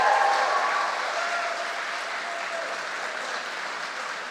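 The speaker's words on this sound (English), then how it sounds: "Let's give Miss Bedidy a big clap" Sustained applause from an audience at a college graduation ceremony, a steady dense clapping filling the room at moderate volume and slowly tapering slightly.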